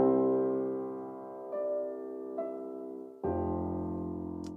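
Sustained chords from a glass piano sample plugin, dry without reverb, each new chord struck a second or so apart, with a bright glassy tone and long decays.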